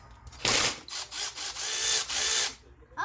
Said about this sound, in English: I got a ratchet, a brand new ratchet,